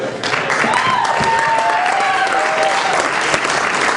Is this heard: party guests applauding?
yes